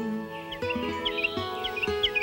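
Birds in a video game chirp in short bright repeated calls over a sustained musical drone.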